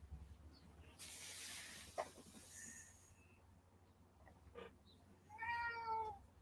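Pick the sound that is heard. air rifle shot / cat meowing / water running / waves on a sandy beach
cat meowing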